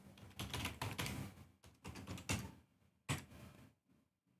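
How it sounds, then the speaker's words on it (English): Quick keystrokes on a computer keyboard come in short bursts of close, soft clicking, with brief pauses between runs and a final isolated tap or two at the end, fairly quiet and without talk. "And then I'll type the password."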